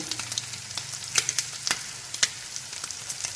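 Garlic and curry leaves fry in hot oil for a Kerala shrimp fry, giving a steady close sizzle with sharp crackles and pops spread through it and no talking.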